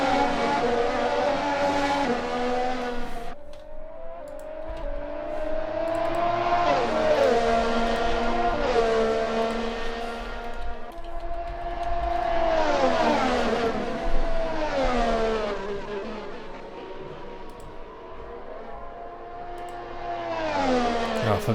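Racing video game cars roar around the Nurburgring, their engines climbing and falling in pitch through repeated gear changes, a loud continuous mechanical wail with overlapping cars passing close.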